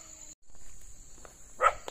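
A single short bark from a dog at a spot where dogs block the path in Indonesia, brief and fairly close near the end, over a steady insect-like hiss and faint scuffing footsteps.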